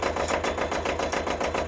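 A worn-out, high-hour Kubota L-210 tractor engine runs nearby, chugging in a quick, steady rhythmic knock with a rough mechanical clatter and no talk over it.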